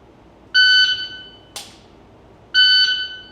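A shot timer gives two loud electronic buzzer tones about two seconds apart during a pistol ready-up drill, with a sharp single gunshot-like crack between them.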